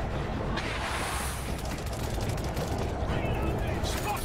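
Continuous machine gun fire on a rooftop in World War Z, a dense, steady roar of rapid shots blending with game voices and chaotic battle noise throughout.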